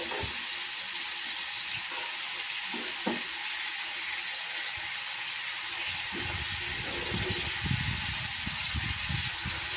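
Pieces of chicken for a stew sizzle steadily in a pan, a constant bright crackling hiss with occasional stirring knocks and louder bursts toward the end, heard up close and without speech.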